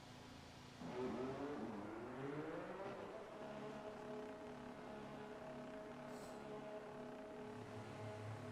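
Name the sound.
race car driving on track in racing video game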